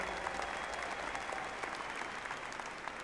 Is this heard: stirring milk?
no